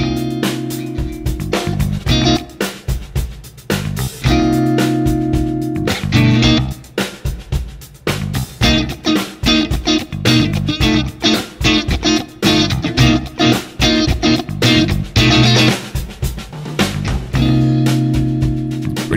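Funk guitar playing a minor eleventh chord over a backing track, loud and busy with tight rhythmic chord stabs riding over drums and bass throughout, no talking.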